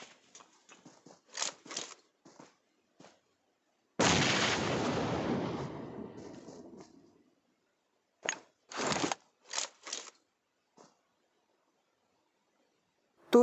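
Gunfire in PUBG Mobile on the Sanhok map: scattered bursts of quick shots, then a heavy rolling blast that fades over a few seconds, followed by more short volleys separated by silence.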